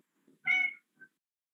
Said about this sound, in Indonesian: ada kucing nih, saya pindah dulu nih kucingnya